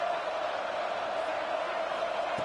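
A steady, dense roar from a stadium crowd fills a college football video game, Florida against Tennessee, a constant wash of cheering with no breaks.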